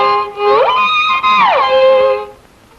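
Violin played with a broad two-arm swinging bow stroke, a sustained bowed tone gliding up in pitch and then back down, clear and close for about two seconds with no talk.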